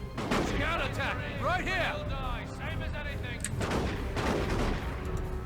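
Shotgun fire from operatives in a Dawn of War 2 Retribution match, heard as sharp repeated battle blasts mixed with other combat effects and sweeping game sounds under continuous excited commentary.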